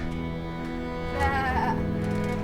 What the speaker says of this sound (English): Only in Wales is there a sheep.